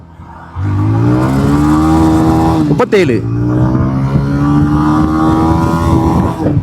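A 125cc motorcycle engine revs hard while accelerating in first gear, its pitch climbing steadily, then dropping sharply at a shift before rising again. The engine is loud and close, and a rider talks over it throughout.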